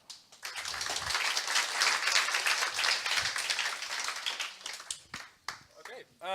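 An audience at the PyData Amsterdam 2018 lightning talks breaks into applause after a talk, a dense burst of clapping that swells and fades before a voice begins speaking.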